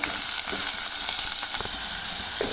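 Chopped onions frying in oil for a dried prawn curry, a steady close, loud sizzle filling the whole stretch with a few scraping stirs of the spoon, no voices.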